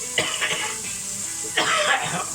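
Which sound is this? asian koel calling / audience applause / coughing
coughing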